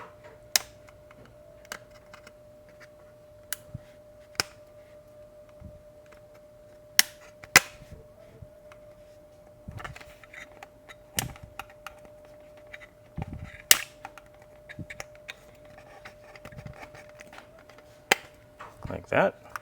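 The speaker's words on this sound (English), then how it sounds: "You just kind of want to pry up on these tabs that are holding it down onto the plastic." Plastic tabs on a 1991-2005 Acura NSX door sill being pried up, giving scattered sharp clicks and pops at irregular intervals over a quiet background, with occasional speech.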